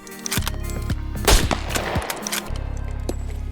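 Gunfire in the video game Scum strikes an upgraded brick base wall during a raid, a loud burst of rapid shots followed by a steady mechanical rattle of repeated fire.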